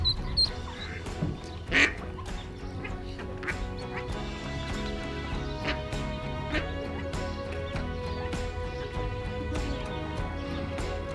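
Ducks quacking repeatedly near a boat, with layered overlapping calls in a loud chattering chorus over a constant low background hum.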